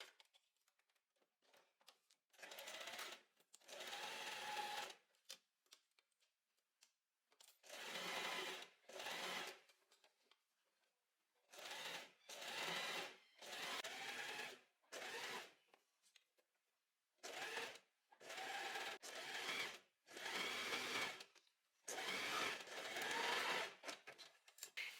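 A sewing machine stitches a seam along the folded line of an open-back maxi dress, running in about eight separate loud bursts of steady whirring separated by short pauses, with no talking.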